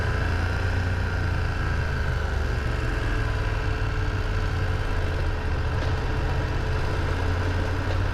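A motorcycle cruises along a national road in Spain, its engine giving a steady low drone mixed with continuous wind and road rumble, with no pauses or changes in pace.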